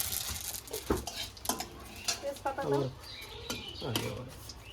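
Cumin and radhuni seeds fry in a pan with light sizzling, and a utensil scrapes and clinks as it stirs them. The sound is quiet and close, with no talk.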